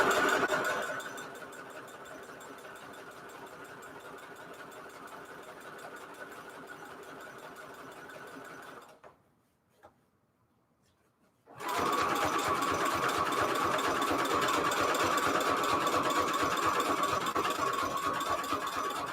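A sewing machine stitches junk journal pages with small, close-set stitches, running in a steady fast mechanical rattle, pausing briefly into near silence and then resuming louder and closer.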